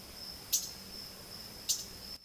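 Two short, sharp, high chip calls from a mourning warbler (Geothlypis philadelphia), about a second apart, stand clearly above a steady insect-like hiss in an outdoor recording.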